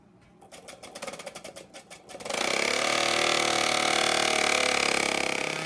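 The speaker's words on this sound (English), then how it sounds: "This wound vac provides more suction." A wound vac prototype pump starts up after about two seconds of sputtering, pulsing bursts, then runs as a steady, loud, continuous whir of strong suction to the end.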